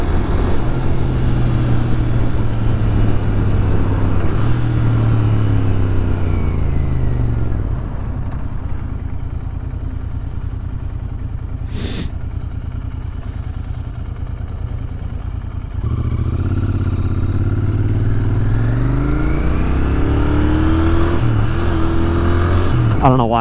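A motorcycle engine revved with the clutch pulled in during a missed upshift: loud, close revving that sags, holds lower for several seconds, then climbs again.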